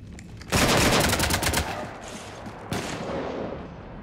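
Loud rapid bursts of automatic gunfire strafing a ship in Mass Effect 3, a dense rattling volley that erupts suddenly, tapers off, then flares again in a second shorter burst.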